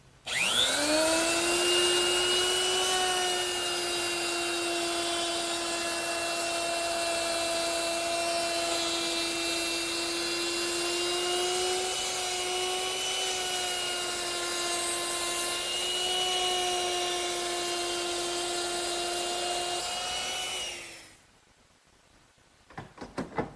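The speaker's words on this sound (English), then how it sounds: "I'm going to use a 3/8 inch radius rounding over bit, and I'm going to hit all the sharp corners" A wood router fitted with a 3/8 inch radius roundover bit runs steadily while easing sharp corners on a mission-style sofa's wood posts, a loud continuous high whine with strong harmonics lasting about twenty seconds before spinning down, no talking.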